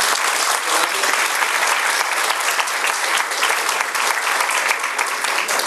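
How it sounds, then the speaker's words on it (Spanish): Strong, steady welcoming applause from an audience at an evening gathering, loud and continuous across the whole stretch with no speech over it. "vamos a darle un fuerte aplauso de bienvenida a Raúl."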